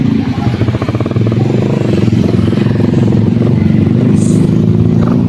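Close, loud motorcycle engine running steadily at night while the bike is moved to park at the side, a continuous low rumble with some clatter and no clear revving.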